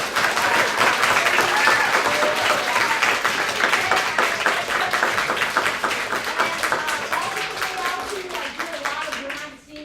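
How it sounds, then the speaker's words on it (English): A crowd claps loudly and steadily, the applause dense at first and gradually thinning out toward the end. "Can we give a big round of applause to the biggest man here?"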